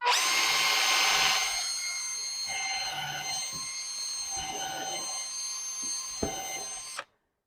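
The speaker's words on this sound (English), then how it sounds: "Let's drill ourselves a hole" A power drill whirs steadily through wood for about seven seconds, close and loud, its pitch dipping slightly as the bit bites, then stopping abruptly.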